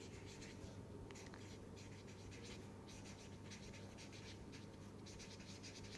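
Pen scratching steadily across paper while a physics tutorial problem on particle probability is written out, a continuous close scribbling texture with no talk.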